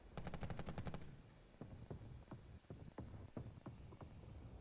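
A quick rapid burst of airplane machine-gun fire opens the moment, followed by a slower run of scattered, separate shots at moderate distance in a multiplayer air-combat video game.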